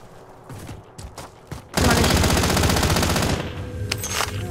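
Call of Duty: Warzone gameplay with a few scattered shots, then a loud, sustained burst of rapid automatic gunfire lasting about a second and a half, followed by quieter game noise.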